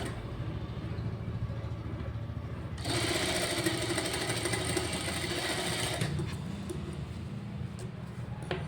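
A computer embroidery machine stitches blouse fabric with a continuous mechanical whir that grows louder and brighter for a few seconds mid-stretch before settling back to its steady running hum.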